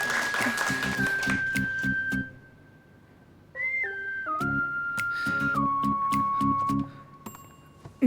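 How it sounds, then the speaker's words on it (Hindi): A group claps in rhythmic bursts at an outdoor gathering, the applause loud and near, while a long steady whistle runs over it and the clapping stops and starts. "इसके लिए तालियां बजाओ।"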